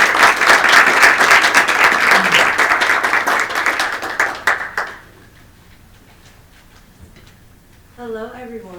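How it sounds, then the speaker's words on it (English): Audience applause for a speaker at an HBCU college-and-career event: dense, loud clapping from a crowd fills the first five seconds, then fades out to a quiet room before a voice begins talking near the end. "Please give her a huge round of applause as she chats with us."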